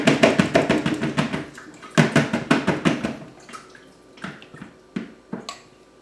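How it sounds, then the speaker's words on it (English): Melted beeswax poured a little at a time through a splash guard filter into a bucket, giving bursts of splashing and trickling, then scattered drips and taps as the strainer is shaken to draw the last liquid through. "And you just pour a little bit at a time, allowing this splash guard to filter a majority of it."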